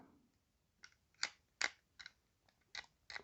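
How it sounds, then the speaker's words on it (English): A hobby knife cuts through a plastic Warhammer 40,000 miniature part at its base, making a series of quiet, crisp snicks and scrapes with short pauses between them, close and alone. "take your knife, cut down behind that triangle, and then cut it off at the base"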